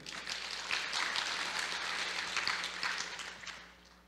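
Audience applause breaks out at the HITCON 2017 hacker conference closing ceremony, a steady patter of clapping from a modest room that holds for a few seconds and then fades out.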